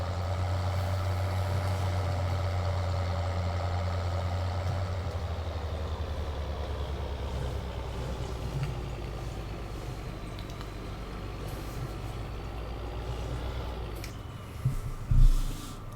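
Reversing beeps from a truck manoeuvring in Farming Simulator 19 sound over a steady, droning diesel engine. The engine stays at a constant level throughout, and a short louder burst comes near the end. No one speaks.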